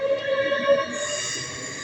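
A train at Morpeth station sounds close by as steady rail rumble with faint wheel squeal, while a broad hiss rises partway through and holds.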